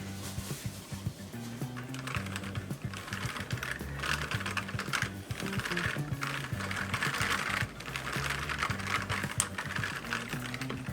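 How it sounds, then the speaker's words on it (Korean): Steady clicky typing on an A2 AG0302 gaming keyboard with blue mechanical switches, fast continuous keystrokes close up and loud, with no talking. "소리부터가 나 청축임 하고 있는 것 같죠?"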